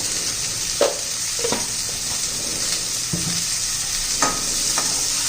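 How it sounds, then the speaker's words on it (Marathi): Green peas being sautéed in hot oil for spinach pulao, with a steady soft sizzle and occasional stirring scrapes from the spoon, close up with no talking. "चांगले तेलामध्ये पण वाटाणे परतून घेतल्यामुळे पटकन मऊ होतात"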